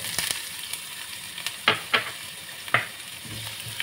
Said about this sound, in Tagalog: painitin mo natin ng mantika ng konti at i-fry natin yung ating chopped